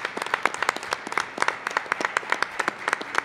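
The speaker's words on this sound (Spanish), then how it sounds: "Y yo pido que a Elvia y también al autor de este libro les demos un aplauso con" A small audience claps for the book's author at a book launch, a brisk, steady patter of individual hand claps, close and fairly loud, with no voices over it.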